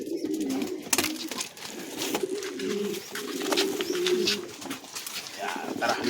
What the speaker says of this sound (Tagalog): Yan mga kalapatids.